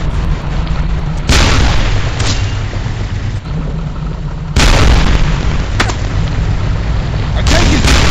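Heavy explosions destroy a tank in the desert campaign of the video game Brothers in Arms 2: Global Front, with three loud booming blasts, one at the start, one mid-way and one near the end, over a constant rumbling battle backdrop.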